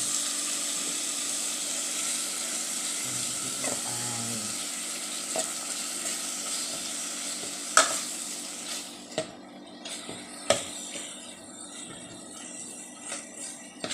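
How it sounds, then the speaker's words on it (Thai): Pork stir-frying in panang curry with coconut milk, a steady bubbling sizzle that thins out partway through, then several sharp clinks and scrapes of a utensil against the pan, nearby with no talking. "ผัดไปเรื่อยๆจนหมูสุก"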